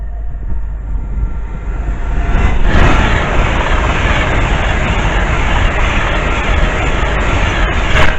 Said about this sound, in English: The next train pass by is Avanti 390 Pendolino